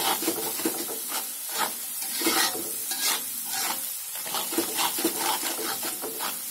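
Spices stir-fried in a pan for sayur nangka until fragrant, a steady close sizzle broken by repeated scraping strokes of the spatula at an even rhythm, with no talking.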